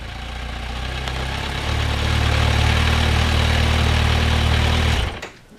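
A Kawasaki Versys 1000 motorcycle fitted with a Holeshot slip-on exhaust runs steadily up close with a deep, rumbling engine note. It swells slightly after a couple of seconds, holds strong, then is switched off near the end.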